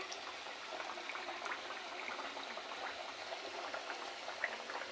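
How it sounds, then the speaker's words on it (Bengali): Samosas frying in hot oil in a pan, three at a time, with a steady, close bubbling sizzle and no talk. "এইভাবে ভাজবে আস্তে আস্তে"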